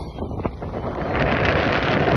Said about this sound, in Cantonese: 尋日落大雨，今日超大風，就冇辦法。